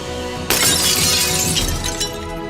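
Glass shatters under the tungsten steel glass-break tip of an aircraft-grade aluminum tactical pen: a sudden loud crash that bursts into a sustained, bright spray of breaking fragments.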